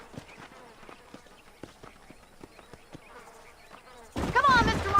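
Horse hooves clip-clop at a steady walking pace in the Red Dead Redemption video game, soft, sharp knocks under faint ambience, ending with a sudden burst of louder sound.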